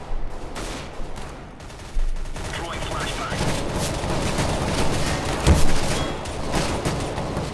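Gunfire in the video game CS:GO, with sharp bursts of shots and rapid repeated cracks over several seconds, one heavier blast standing out near the end, under a continuous noisy game background.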